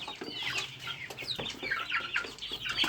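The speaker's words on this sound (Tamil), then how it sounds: "இவங்க வந்து நம்மக்கிட்ட இருக்க ஒரு 2 மாதமான கோழி குஞ்சுங்க தான்" Two-month-old chicken chicks cluck and peep continuously close by, a busy overlapping chatter of short calls with no voices.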